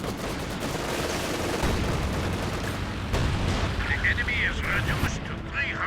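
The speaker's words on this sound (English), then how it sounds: "It was an airstrike there." Airstrike in the Company of Heroes 2 video game: a sustained, loud barrage of explosions and gunfire rumbling throughout, with bursts and crackling debris near the end, under occasional background speech.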